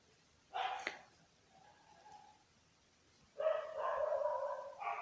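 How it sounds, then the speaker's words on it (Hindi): Dogs bark outdoors in two bursts: a short sharp outburst, then a longer run of overlapping barks a couple of seconds later, with no talk. "कुत्ते जमकर भौंक रहे हैं।"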